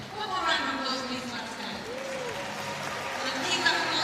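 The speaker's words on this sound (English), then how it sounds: "One more round of applause, please," An arena crowd at the 2026 Commonwealth Games artistic gymnastics in Glasgow applauds steadily throughout, a broad wash of clapping with a commentator's voice talking over it.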